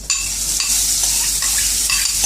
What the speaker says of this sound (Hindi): अब मैं प्याज को डाल दूंगी।